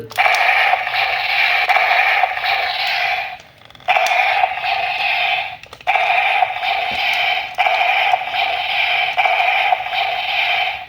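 A buzzy electronic trigger sound effect from a DX Ixa Calibur toy gun plays in several bursts, harsh and tinny from a small speaker, with brief gaps and clicks between them.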